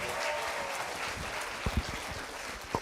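An audience at a TEDx event at Nile University of Nigeria gives a round of applause, a steady, distant wash of many hands clapping with a few sharper claps near the end.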